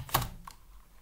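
A few soft keystrokes on a computer keyboard while HTML and CSS code is typed, one sharper click followed by fainter taps, close and quiet.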